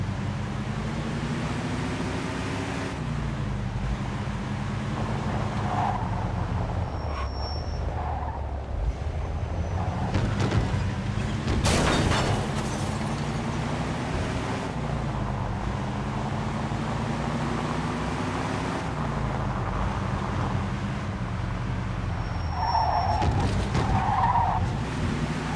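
A car from the video game Mafia 2 driving with a constant engine drone, broken by repeated tire skids and squeals, one sharp crash-like burst in the middle, heard up close and steady throughout.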